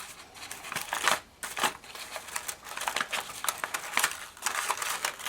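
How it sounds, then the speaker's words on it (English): A stiff craft paper treat bag crinkles and rustles close by in bursts, crackling as it is crumpled and handled, with brief pauses between handfuls. "Sorry for all the rustling noise."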